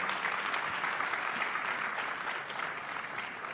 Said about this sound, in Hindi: जोरदार तालियों से इनका स्वागत कीजिए